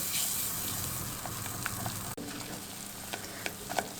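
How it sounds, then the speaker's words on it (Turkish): Flour toasting in butter in a pan over low heat gives a steady close sizzle throughout, with small pops and crackles scattered across it and one brief break in the middle. "Unumun kokusu çıkarana kadar, çıkana kadar tereyağıyla kavuruyorum."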